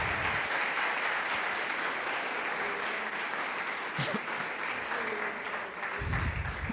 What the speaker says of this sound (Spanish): Ese aplauso que sea para Cristo y que sea bueno.